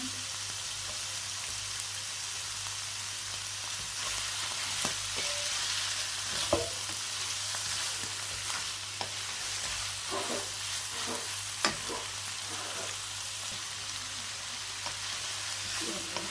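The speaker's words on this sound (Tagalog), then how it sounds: "Haluin lang natin siya ng haluin." Sotanghon guisado with shrimp being stirred in a pan, a continuous close sizzle with repeated scraping and tapping of the utensil and a low steady hum underneath.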